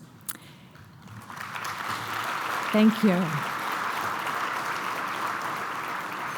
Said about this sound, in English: How about we begin with another round of applause for this year's Pioneer Award winners